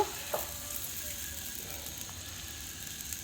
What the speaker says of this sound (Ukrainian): Додала чесник, щоб масло змішалося з чесничком